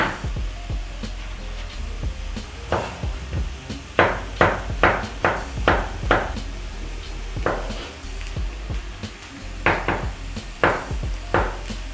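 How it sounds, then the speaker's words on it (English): Tomatoes being chopped on a cutting board, bursts of quick knife thuds in rhythmic runs separated by pauses, close and fairly loud, with a soft background hum and no talk. "I'm going to be chopping my tomatoes."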